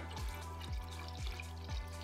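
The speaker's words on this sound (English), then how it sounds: "all I have to do is simply pour the thermal fluid into the bath" Thermal fluid glugs as it is poured into a Ministat circulator bath in a lab, a steady liquid pour with rhythmic gurgling pulses about every half second, faint and with no talking.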